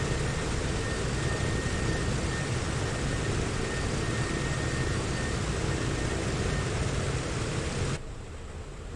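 Douglas DC-6 airliner engines in a flight simulator drone as a steady, broad, loud roar while the plane taxis off the runway, dropping abruptly in level just before the end.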